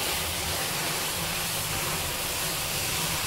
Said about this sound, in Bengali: অল্প অল্প করে দুধ দিয়ে দিতে হবে আর নাড়াচাড়া করতে হবে।